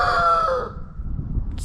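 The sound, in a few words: rooster crowing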